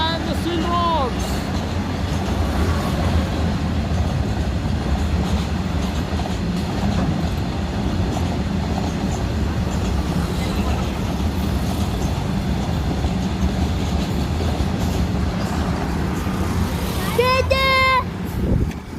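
A freight train loaded with steel wires and steel rods rolls past a bridge, its loud continuous rumble and wheel noise filling the whole stretch, while people talk over it and a horn-like tone sounds near the end.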